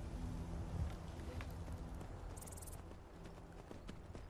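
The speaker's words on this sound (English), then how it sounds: "We got a horse, fellas." Horse hooves clip-clop at an easy, regular pace in the video game Skyrim, quiet and close, with a soft outdoor ambience beneath.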